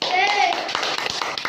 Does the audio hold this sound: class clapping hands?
yes